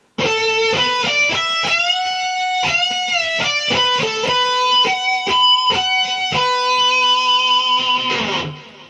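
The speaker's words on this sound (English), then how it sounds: "A harmonic is a bell-like tone that can be produced at various points along the strings of the guitar." Ringing guitar harmonics, clear and bell-like, struck one after another in a flowing phrase, each note sustaining and overlapping before fading at the end.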